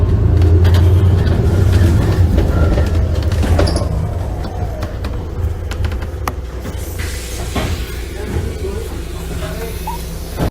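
Rumbling interior of a moving bus, loud low engine drone and rattling that eases off partway, with clunks and a brief hiss near the end.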